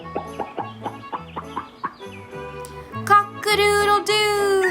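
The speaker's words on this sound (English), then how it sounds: "There was a bantam rooster and a little bantam hen with a big clutch of eggs." A bantam rooster and hen cluck in a quick series of short, close clucks, building to louder, drawn-out squawking calls toward the end.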